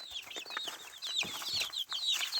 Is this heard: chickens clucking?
yes